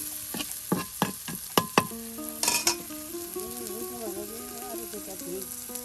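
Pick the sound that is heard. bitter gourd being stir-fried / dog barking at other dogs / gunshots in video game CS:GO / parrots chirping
bitter gourd being stir-fried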